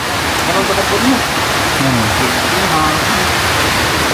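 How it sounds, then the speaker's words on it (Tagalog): Rain falling steadily outdoors in Silang, Cavite, a dense, even hiss that is fairly loud, with people talking faintly over it. "naulan na"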